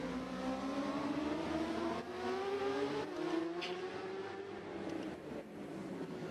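Racing motorcycles roar past at the Macau Grand Prix street circuit, engines wailing and shifting pitch continuously as several bikes go by, loud and steady without a break.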